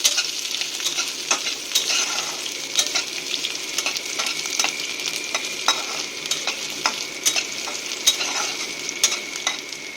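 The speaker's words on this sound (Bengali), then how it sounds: "এটাকে আমি একটু নেড়ে ভেজে নেবো হালকা ভাজবো" Jackfruit seeds being lightly fried and stirred in a pan for a sour fish curry, a continuous bright sizzle broken by regular spatula scrapes and taps, close and steady with no talking.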